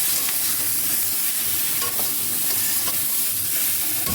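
Vegetables for Bengali shukto stir-fry in a hot pan, a steady close sizzle with soft scraping of a spatula through the pieces running throughout, no voices.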